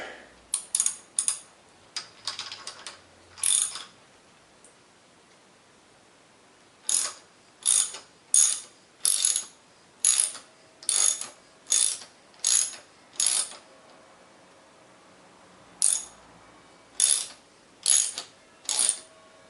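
A ratchet wrench tightens a lock nut on a leaf spring bolt of a 1968 MGC, heard as clustered bursts of crisp, close clicks in repeated strokes with short pauses between them.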